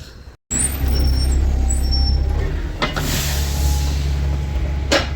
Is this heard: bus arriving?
yes